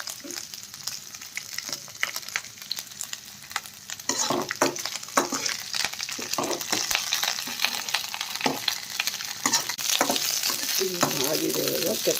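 Broken wheat rava frying in oil in a pan, a steady bright sizzle with stirring scrapes and small crackles, louder and busier in the second half, no talking.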